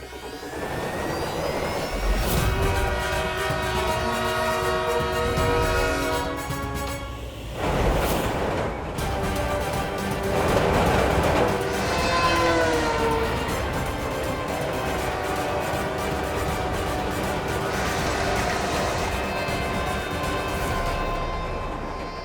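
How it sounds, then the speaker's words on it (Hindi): A train rushes past on a railway in a TV drama scene, a loud sustained mechanical roar with whining, shifting tones that swell and ebb over twenty seconds, with no voices. "कहीं ट्रेन ने बालवीर को कुचल दिया तो?"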